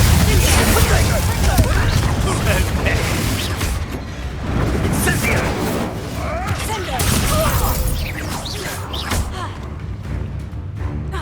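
Booming spell blasts and crackling bursts from Hogwarts Legacy combat, loud and dense throughout, layered with shouted incantations and other voices.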